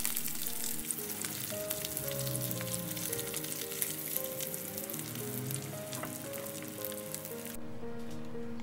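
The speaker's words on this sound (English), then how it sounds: "Fried the spam. Make sure both sides are golden brown." Steady crackling sizzle of Spam frying in a hot pan, continuous and fairly loud throughout, with a faint musical tone drifting underneath.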